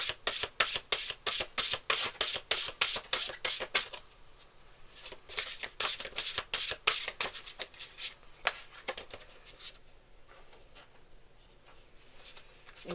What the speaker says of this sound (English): Let's pull another card from this deck.